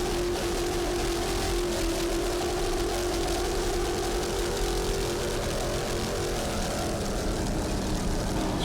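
A throttled-up offshore racing powerboat, the 2002 SBI Factory 2 World Champion, roars steadily at close range in a continuous heavy drone with no break, during a marathon race.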